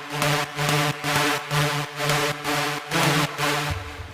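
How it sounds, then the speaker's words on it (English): Saw synth layer playing a chord progression from MIDI on an electronic dance drop, sounding as steady pulsing sustained chords in roughly eight even rhythmic bursts, loud and alone. "I copied that same MIDI up to a saw layer that we made a few videos back"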